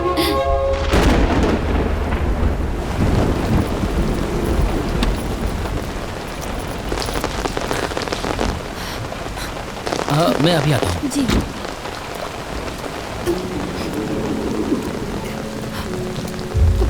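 Steady heavy rain pours down with rumbles of thunder, while people briefly speak over the downpour.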